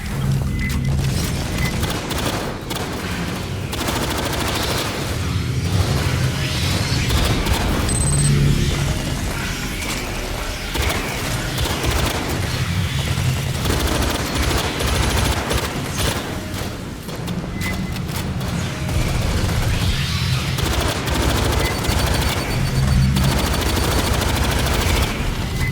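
A sentry turret in Aliens: Fireteam Elite fires in sustained rapid bursts, loud mechanical gunfire clattering almost without pause across the whole stretch, with brief dips between volleys.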